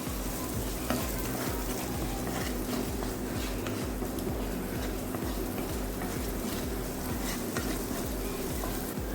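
Onions and potato sauté in a pan for aloo paratha, a continuous close sizzle broken by repeated scraping stirs of a spatula across the pan, steady and moderately quiet with no talking.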